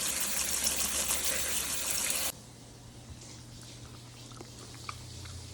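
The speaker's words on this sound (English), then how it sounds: "now I'm gonna rinse the pasta noodles under some cold water just to stop the cooking process" Cold tap water gushes steadily over cooked pasta noodles being rinsed in a home kitchen, a loud rushing stream that cuts off abruptly, leaving quiet room sound.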